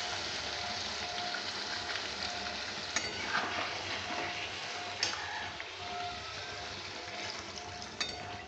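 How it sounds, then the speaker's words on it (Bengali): Water poured into a simmering papaya and meat curry, a steady sizzling, bubbling wash of liquid hitting the hot pot, close and continuous with small clinks. "এরপর আমি জল ঢেলে দিচ্ছি"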